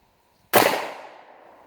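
A single sharp gunshot from a PSA 5.7 Rock pistol fired at a small target 25 yards downrange at an outdoor range. The crack is loud and close, followed by a brief fading echo, with quiet before it and no talk.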